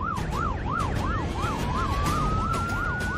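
An ambulance siren wails in a fast, repeating up-and-down pattern, loud and close, over the steady rumble of a moving vehicle.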